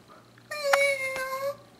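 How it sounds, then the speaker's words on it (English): A toy robot cat lets out a single electronic meow, a clear synthetic tone held for about a second, close and fairly loud in a quiet room. "It is very irritating the way it meows."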